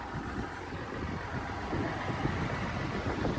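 A Chevrolet Silverado 1500 truck with a Duramax diesel engine gives off a steady, low rumble over broadband noise. It holds at a constant level with no talking.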